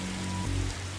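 Steady rain falling in the Darkside Detective video game, a continuous hiss of drops over low droning ambient tones, with no voices.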